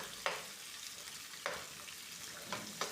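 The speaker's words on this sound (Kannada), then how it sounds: "ಈರುಳ್ಳಿ ಒಂದು 15 ಮಿನಿಟ್ಸು ಆಗಬೇಕು, ಫ್ರೈ ಆಗಬೇಕು." Sliced onions sizzle steadily in a hot pan for fried rice, a continuous close frying hiss broken by a few brief stirring scrapes, with no talking.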